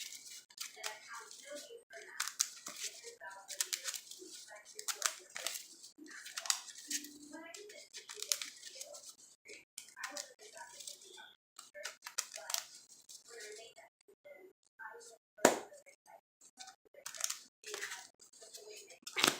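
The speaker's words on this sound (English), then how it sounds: "let's shuffle this up for you guys" A deck of playing cards for a Magic card game is shuffled by hand. Rapid, quiet, crisp riffles and clicks repeat in bursts, with a voice speaking softly between them.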